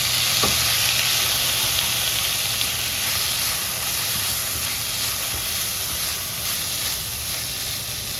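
Tomatoes fry in a hot pan for a Marathi matki usal, a steady close sizzle and hiss with soft crackling that holds throughout, and no talking.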